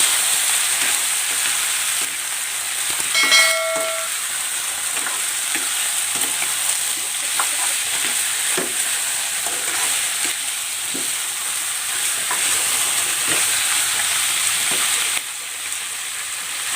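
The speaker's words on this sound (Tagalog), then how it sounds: "Igigisa ko na dito itong native chicken." Native chicken seasoned with salt and pepper sautéing in a hot pan, a loud continuous sizzle and crackle throughout, broken once early by a short tonal beep.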